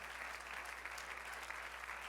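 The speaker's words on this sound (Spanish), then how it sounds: "Dale aplauso fuerte." A church congregation keeps clapping loudly for the Lord at the close of a sermon, a dense, unbroken roar of applause throughout.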